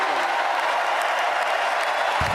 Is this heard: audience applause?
yes